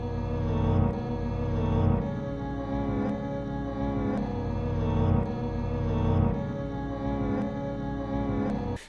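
A beat sample slowed to half time and drenched in reverb loops for nearly nine seconds, dense and loud, with a steady heavy pulse about once per second and a smeared, washed-out tail, no voices.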